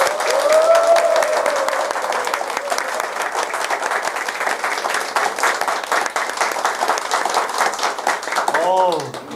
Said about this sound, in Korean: 여러분 다시 도올 김용혁 선생님의 큰 박수 부탁드립니다.